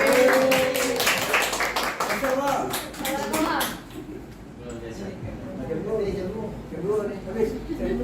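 An audience at a school presentation gives a burst of loud, dense hand clapping for several seconds, then it stops and a person begins speaking.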